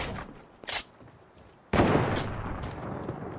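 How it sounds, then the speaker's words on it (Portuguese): Video-game gunfire comes in two bursts: a brief sharp crack, then a louder blast that trails into a rumbling, crackling tail over steady background noise. "Ô, Pedro já começou a dar os tiros, velho."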